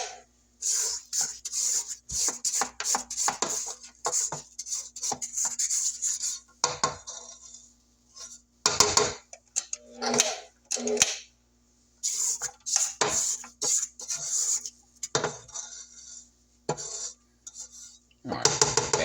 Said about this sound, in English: Okay, and at some point you will stop it and scrape down.